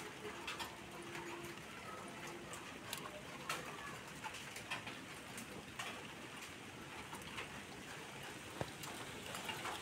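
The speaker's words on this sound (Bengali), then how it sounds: "এগুলো হচ্ছে ছোট, একেবারে ছোট ডায়মন্ড ডাব।" Small diamond doves cooing softly in a pair kept as pet birds, their low calls faint beneath a steady hiss of background noise throughout.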